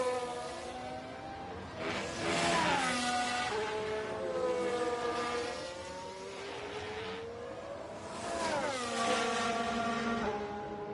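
Formula 1 race cars in F1 Manager 24, including Norris's McLaren, screaming through a sprint qualifying session: several high-revving engines whine and shift pitch, swelling loud as cars pass and fading between, overlapping continuously.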